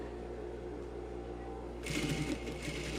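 A sewing machine stitches the front piece of a tailored vest at its lining seam, running steadily with a low hum that turns into a brighter, busier whir partway through as stitching continues.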